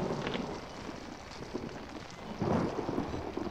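Thunder rolls through a stormy night in the horror game Outlast, a low rumbling swell with rain hiss beneath, building into a louder burst near the end.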